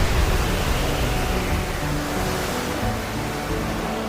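Stormy sea waves surge and crash in a dense, continuous roar of churning water, loud and steady throughout with no voices.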